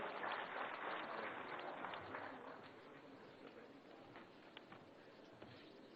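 Applause fills a large hall at a convention centre inauguration in Khajuraho, a dense, sustained wash of clapping from a big crowd that starts loud and eases slightly while continuing steadily.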